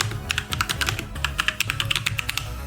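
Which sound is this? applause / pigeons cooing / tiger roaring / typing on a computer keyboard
typing on a computer keyboard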